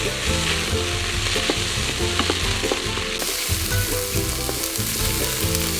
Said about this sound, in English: we're going to add some chopped up garlic and saute that for 1 or 2 minutes